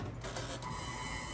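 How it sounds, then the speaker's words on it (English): An ultrasonic cleaner running on cast silver and gold jewelry gives a steady, loud, harsh buzzing drone with a high whine that holds unbroken throughout. "it's time to put this in the ultrasonic"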